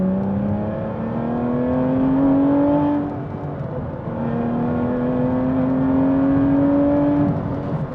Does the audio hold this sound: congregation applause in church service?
no